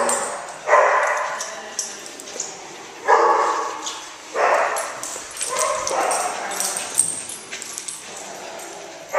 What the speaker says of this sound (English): We got our first day dog, Bentley.